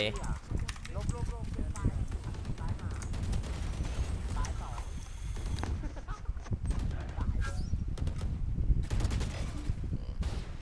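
Rapid gunfire from the game Valorant crackles in bursts throughout, mixed with game effects and constant loud talking over it.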